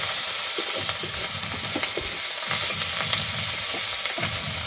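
Tomato and ginger paste sizzles steadily in a hot pan while a spoon stirs it, scraping and slapping in irregular strokes over constant frying hiss, close and alone without speech.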